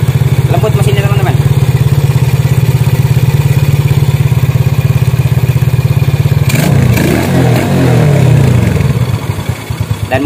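A motorcycle engine idles close and loud with an even, smooth throb for most of the stretch, then the rhythm shifts briefly as it revs before settling and sputtering near the end; a voice speaks over it.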